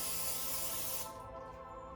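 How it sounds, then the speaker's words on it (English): Pam cooking spray misted onto a brownie pan, one loud close hissing burst lasting about a second before cutting off to quiet room tone. "I am going to spray this with some Pam."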